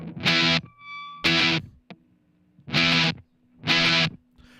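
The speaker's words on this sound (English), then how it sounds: "this hits a really good level of like distortion, but like not being too fuzzy" Electric guitar played through a Big Muff 2 distortion pedal, giving four loud, thick, distorted chord strums in a steady rhythm, with a hum and brief note decays in the gaps between them.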